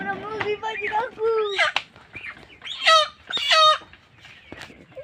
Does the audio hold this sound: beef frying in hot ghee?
no